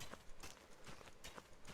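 Planting seeds in the survival game Rust makes a subtle dirt-digging effect: a few soft, quiet crunchy scrapes spaced about half a second apart, heard alone.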